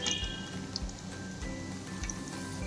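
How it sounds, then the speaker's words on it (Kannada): MTR instant gulab jamun balls frying slowly in oil give a close, steady bubbling with soft rhythmic squishy pulses and faint ticks as they are turned. "ನಿಧಾನಕ್ಕೆ ಫ್ರೈ ಮಾಡ್ತೀವಿ."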